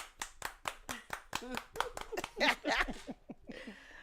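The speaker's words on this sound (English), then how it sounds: "Everybody clap your hands." Evenly spaced hand claps from a group on a talk show, about a dozen in a steady rhythm, mixed with voices and a burst of laughter near the end.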